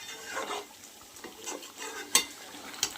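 Chicken pieces with tomato and coriander leaves are stirred and fried in a pan for chicken kasa: a soft sizzle under repeated scraping strokes, with two sharp metal clinks of the spoon near the end.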